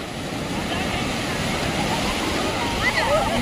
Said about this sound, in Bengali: বিশাল ঢেউ আসছে, বিশাল ঢেউ।